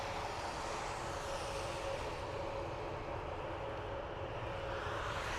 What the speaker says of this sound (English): So, Turkish Airways off to Istanbul.